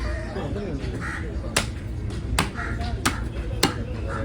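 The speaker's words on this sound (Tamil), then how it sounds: "காக்கா" Several harsh crow caws ring out at intervals over background chatter at Kasimedu fish market, with a few sharp clicks in between.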